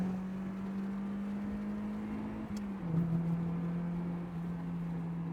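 A Mazda NB Miata with its muffler disconnected drones steadily with a loud, raw exhaust note, which dips and shifts partway through as if changing gear, then settles into a slightly lower, continuous hum.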